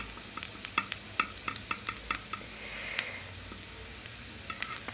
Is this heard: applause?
no